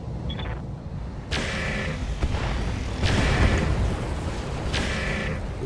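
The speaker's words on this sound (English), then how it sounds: "Bomb." Bombs bursting in the RogueTech mech combat game, a series of heavy booming blasts arriving in three waves with rumbling low-end and crackling debris, loud over a constant mechanical din.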